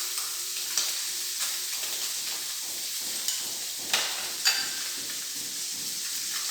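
Onion and tomato cook in a paella pan with a constant hissing sizzle, broken by occasional scraping stirs and a few louder pops.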